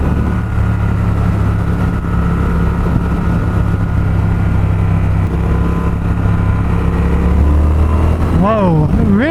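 A Triumph Speed Twin motorcycle engine drones steadily up close, a loud continuous rumble with wind roar, and the pitch bends and rises near the end as it accelerates.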